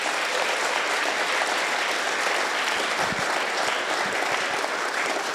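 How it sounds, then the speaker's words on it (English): An audience at a STEM academy school dedication applauds steadily, a dense, even wash of clapping that stays loud and constant throughout without any voices on top. "it would be appropriate to applaud at this point"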